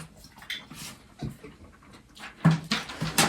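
A household dog pants and whimpers close by at the dinner table during a meal, with quick breathy pants and soft whines coming in uneven bursts.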